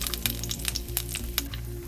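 Cashews and raisins frying in a spoonful of ghee for chhena kheeri: a soft, close sizzle broken by scattered sharp crackles and pops, with a low steady hum beneath and no voices.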